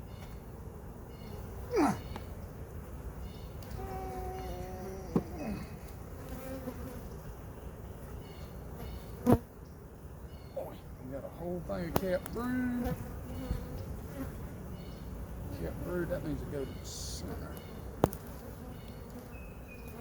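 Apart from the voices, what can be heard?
bees buzzing in a beehive frame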